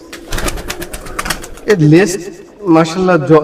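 A pigeon gives two distinct, throaty calls up close, each a rolling coo lasting under a second, after shuffling noises and soft knocks.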